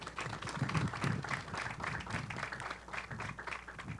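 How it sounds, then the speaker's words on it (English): An audience at the Central State University ribbon cutting claps in a quiet, steady patter, with dense overlapping hand claps heard from a distance. "You can clap on that."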